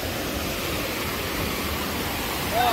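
A waterfall at Paraty in the rainy season, a loud, steady, close roar of rushing water with no break.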